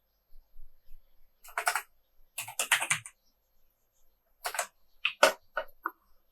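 Typing on a computer keyboard, short bursts of quick clicking keystrokes separated by silent pauses, close and crisp in a quiet room.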